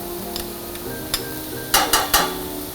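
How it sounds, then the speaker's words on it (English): Rice and mushrooms cooking for risotto in a pan, a soft steady simmer with faint ticks, then three quick clacking stirring strokes near the end. "We cook well the rice with the mushroom first"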